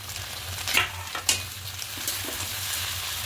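Egg and chopped tomato fry in a pan for an egg curry, a steady close sizzle broken by a few distinct scraping stirs of a spatula near the start.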